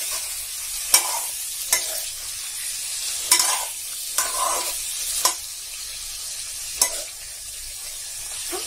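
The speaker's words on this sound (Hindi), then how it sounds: "धीमी आंच में बीच बीच में बस ऐसे ही चलाते रहेंगे जब तक कि कलौंजी अच्छे से पक ना जाए" A spoon stirs bitter gourd kalonji cooking slowly in a pan over low heat, with a gentle background sizzle and about seven sharp scraping clinks spaced irregularly across the stretch; nobody talks.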